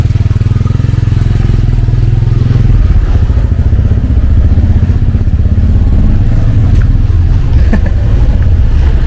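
A motorcycle engine rumbles close by and loud, its tone shifting as it moves through a narrow village alley, with some clattering in the background.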